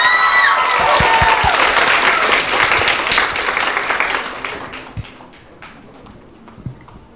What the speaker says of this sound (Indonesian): Mari beri tepuk tangan untuk 10 MIPA 3.